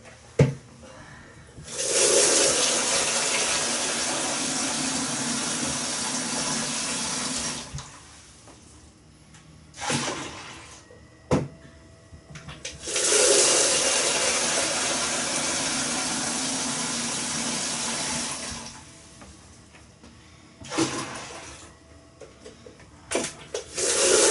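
Cold water runs from an old kitchen tap while home-brewing a Brewmaker Pilsner lager, two long steady gushing bursts of several seconds each, separated by quieter pauses with brief clunks and knocks.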